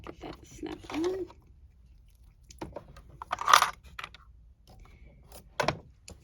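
An invisible zipper foot snaps onto a sewing machine with a few small plastic-and-metal clicks and fumbling knocks, one sharper click standing out, faint and close in a quiet room with a brief murmur of voice.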